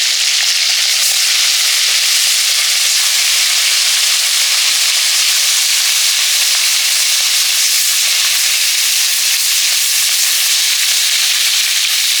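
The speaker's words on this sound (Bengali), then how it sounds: "কই মাছটা ভেজে নেব নুন হলুদ মাখিয়ে নিচ্ছি" A koi fish rubbed with salt and turmeric fries in a pan, giving a loud, steady, close sizzle with crackling pops throughout and no talk over it.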